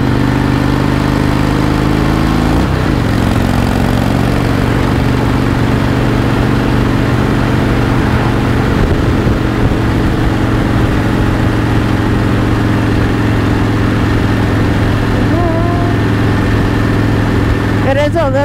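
A Harley-Davidson Dyna motorcycle engine while riding on a dry, sunny road, a loud, steady low rumble with constant wind noise, while the rider talks over it.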